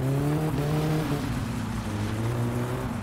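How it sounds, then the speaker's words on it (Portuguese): A car engine roars steadily with nitro boost engaged in the driving game My Summer Car, a loud, sustained drone whose pitch sags slightly and then holds, with no talk over it. "A gente pode ligar o nitro"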